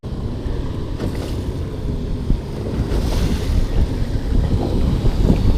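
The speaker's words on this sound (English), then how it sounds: "these are freaking huge too. These aren't no baby waves" An aluminum fishing boat pounds through big waves in strong wind, with loud continuous roaring wind buffeting the microphone, rushing water and repeated hull thumps building toward the end.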